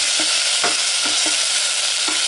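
A crushed garlic clove sizzles in hot fat in a pan, a steady bright frying hiss with soft scraping stir strokes recurring every half second or so, close and loud, with no voices.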